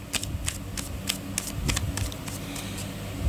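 Tarot cards being shuffled by hand, a rapid series of crisp riffling flutters repeating in quick bursts, close and moderately quiet with no talking.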